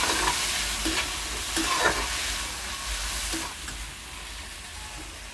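Onions, tomatoes and green chillies fry in a pan with potatoes as they are stirred. A continuous sizzle runs under repeated spoon scrapes and clacks, close by and fairly loud, with no talking.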